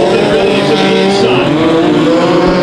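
Midget race cars roar loudly through a five-car, eight-lap heat race, engines droning continuously with rising and falling pitch and a brief tire squeal as they charge into the turns.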